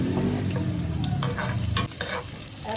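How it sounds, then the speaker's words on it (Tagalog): Garlic and onion sauté in hot cooking oil for pakbet, a loud, steady sizzle with scraping stirs of a utensil in the pan, close and with no talking. "Igigisa ko muna yung ating bawang."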